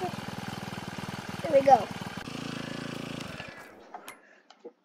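A Honda lawn mower engine in a video game runs with a steady idling chug, surges briefly, then cuts off, leaving a few sharp clicks; a voice speaks briefly over it.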